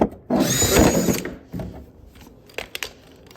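Power drill driving a full-size bit through the front side of a kart frame during assembly, a loud whirring burst lasting about a second, then quieter clanks and taps of handling afterward.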